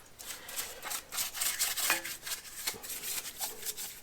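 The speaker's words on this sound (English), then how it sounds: "Just clean off this old silicone gasket material, get all this old grime off." Old silicone gasket material is scraped off the crankshaft bearing block of a 26-year-old van engine, quiet rhythmic rasping strokes in quick succession, close and soft.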